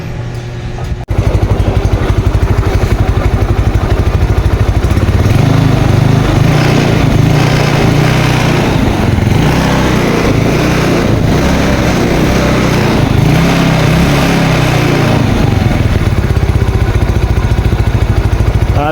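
A Yamaha Mio Sporty scooter engine with a carburetor fires up and runs with a loud, close buzzing putter, its pitch rising and falling as the throttle is blipped a couple of times.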